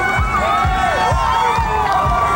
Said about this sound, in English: As the sun warms things up, the crowds fill the streets.